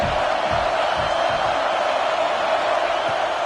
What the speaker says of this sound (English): this crowd trying to help keep him there